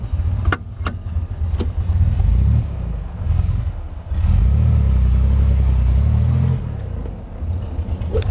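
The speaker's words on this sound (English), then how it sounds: "So here we are, driving the back roads of Vermont" A car travels on back roads in central western Vermont, with a steady engine rumble that surges louder in the middle, plus a few sharp knocks early on, heard from inside and without talk.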